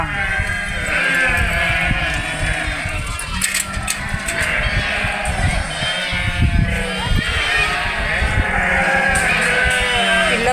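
Sheep bleat repeatedly amid a busy, noisy outdoor scene, with voices and movement mixed in throughout.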